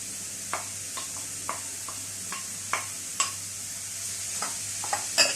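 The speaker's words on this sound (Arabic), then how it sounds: "بدات كطيب البصله كيف ما كتشوفوا دابا غنزيد عليها هذا خيزو محكوك" Chopped onion and grated carrot fry gently in a pan, a soft steady sizzle broken by repeated scraping strokes of a spoon stirring, close and without talk.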